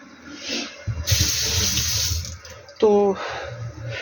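Warm water splashing from an outdoor tap during yard cleanup, a steady broadband rush that starts after a second and runs to the end, with a brief voice partway through.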